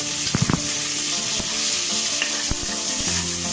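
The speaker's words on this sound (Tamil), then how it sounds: "வெங்காயம் நல்லா வதங்கட்டும்." Onion sizzling and sautéing in a pan while mint pulao is cooked, a steady frying hiss broken by a few spoon scrapes and stirring knocks, close and alone.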